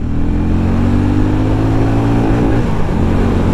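A Hero Mavrick 440 motorcycle engine pulls steadily as it accelerates through the gears, with a loud, continuous drone whose pitch climbs and then dips briefly at a shift.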